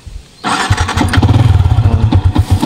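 A Yamaha Sniper 150 V1 motorcycle with a stock exhaust and about 63,000 on the odometer starts up loud and close, then settles into a throbbing, rhythmic idle.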